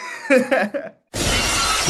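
Glass shatters loudly in a single burst on a glass table in a studio setting, a long bright crash that follows brief excited shouting.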